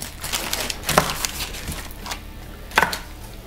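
A knife cutting through the joint of a carved chicken on a board, a few sharp crunching cracks with softer slicing and handling noises between them, close up.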